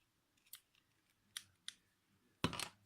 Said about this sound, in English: Just cut this thread out.